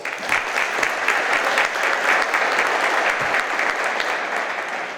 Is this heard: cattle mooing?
no